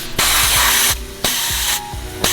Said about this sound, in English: we're gonna hook the compressor up to it, and it's gonna force compressed air into the cylinder